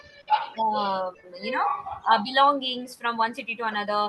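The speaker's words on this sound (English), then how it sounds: "I'm so sorry about the dog barking." A dog barks and yips several times in short, close bursts, mixed with whimpering tones, while a person talks over it.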